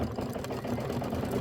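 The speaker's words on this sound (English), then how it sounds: "stitch out that bicycle" A home embroidery machine stitches out a bicycle frame design, its needle chattering in a steady, fast mechanical rhythm with a low motor hum, close and continuous throughout.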